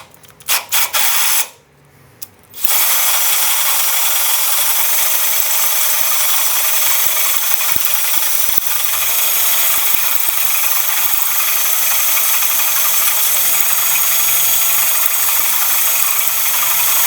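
After a few short clicks and a pause, a power drill whines continuously as it bores into a metal center link on a Toyota pickup, loud and close, with a steady grinding hiss.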